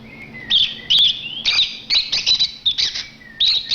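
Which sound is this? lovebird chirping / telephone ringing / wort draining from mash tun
lovebird chirping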